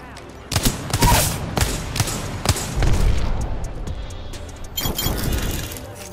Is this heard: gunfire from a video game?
yes